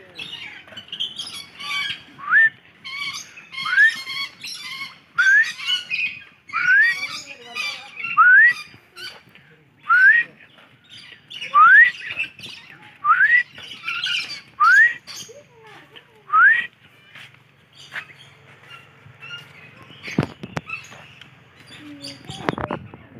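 Fruit-eating birds at a bird and orchid park in Biak give a long series of sharp, rising squawks at a steady rhythm, fairly close, with quiet talk nearby.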